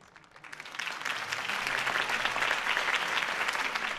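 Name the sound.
crowd applause after Harvey Dent's speech, from Batman Telltale video game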